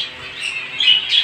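A pair of turquoisine parrots, red-shouldered variety, gives shrill close squawks that build in loudness, with a couple of sharper calls near the end and no talking.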